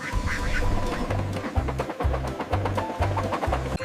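Duck quacks mixed into a cheerful children's alphabet tune, sitting above a thumping rhythmic bass line that pulses steadily throughout.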